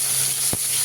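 Two fish heads dropped into hot oil in a kadai give a steady, close sizzle with a brief louder burst as they hit the oil.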